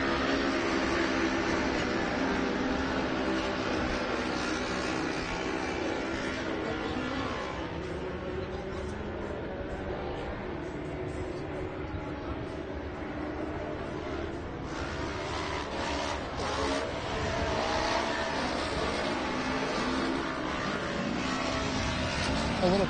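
Production 1000 off-road race cars run bumper to bumper on a short course track, their engines roaring in a loud, steady drone that never drops away, with a commentator talking over it throughout.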